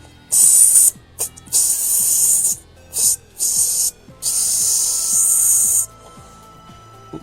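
A voice imitates an airbrush spraying paint onto a latex fish-man mask, making a run of close, breathy hissing bursts of varying length, some short and some held for a couple of seconds.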